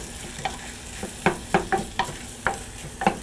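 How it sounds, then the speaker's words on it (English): Chopped onion goes into melted butter in a pan over medium heat, giving a soft background sizzle broken by a handful of sharp utensil clinks and stirring scrapes spaced irregularly. "My butter is melted. So in goes the onions, chopped onion."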